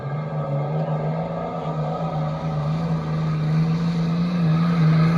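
A pulling truck's engine roars and strains under heavy load during a truck and tractor pull at a county fair, a loud, steady drone that climbs slightly in intensity as the pull continues.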